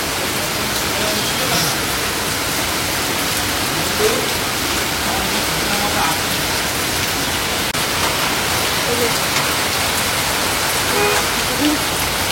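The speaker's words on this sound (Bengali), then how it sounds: "ভালো জোরে বৃষ্টি হচ্ছে।" Heavy rain pouring down outdoors, a dense, loud, unbroken hiss of water striking surfaces that stays constant throughout, with no clear voices over it.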